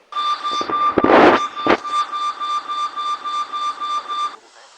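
A steady electronic elevator alarm tone in a Roblox elevator game pulses in a rapid, even rhythm for several seconds, briefly masked by clunking mechanical noises, then cuts off.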